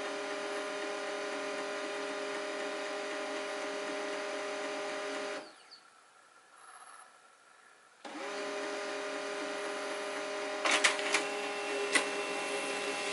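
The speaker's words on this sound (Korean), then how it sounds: "순식간에 인쇄되죠." An HP LaserJet Pro M28w laser printer prints a page with a steady mechanical whirring hum. The hum drops out briefly, then resumes with a few sharp clicks near the end.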